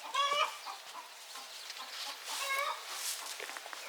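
A hen clucks and cackles in short bursts, with other birds chattering softly in the background; fairly quiet, as if heard from a little distance.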